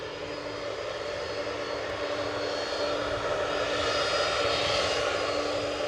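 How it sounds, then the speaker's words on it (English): Ryanair jet airliner taking off from Edinburgh Airport bound for Funchal, a steady broad engine roar with a low tonal hum, heard from a distance and swelling slightly louder toward the end, with no voices. "Ryanair off to Funchal"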